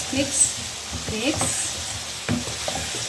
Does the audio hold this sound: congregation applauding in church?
no